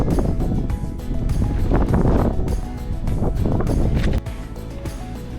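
Strong wind gusts sweep across a frozen lake during an ice-fishing outing in Quebec, producing loud, continuous buffeting against the microphone that swells and eases, with no talking.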